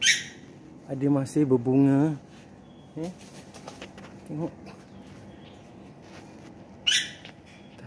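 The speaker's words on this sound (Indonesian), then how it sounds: "dengan suara tu burung tu berlaku perebutan, berlaku perkelahian eh." Birds in an urban garden call in short bursts of chirps and coos, some overlapping as they squabble, while a person talks nearby in Malay.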